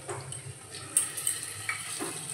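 Pointed gourds stuffed with dhoka masala frying in oil, a close, low sizzle with occasional clinks and scrapes of a spatula against the pan, no voices.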